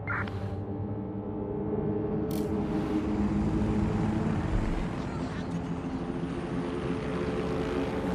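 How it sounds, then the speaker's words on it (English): A drone hovers in the Watch Dogs Legion game, giving off a steady, buzzing, propeller-like whir that stays loud and constant, with a couple of brief sharp effects near the start. "Drone, initiate search."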